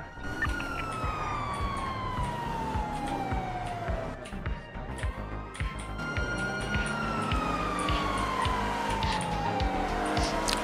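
A police car siren wails continuously in a racing video game chase, its tone sweeping slowly down and back up over steady engine and road noise, loud and close throughout.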